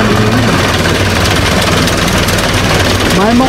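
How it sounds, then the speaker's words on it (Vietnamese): Modified motorbike engine runs steadily and smoothly at idle, a loud, close, continuous low hum with an even rumble that holds through the whole stretch. "Máy êm luôn nha."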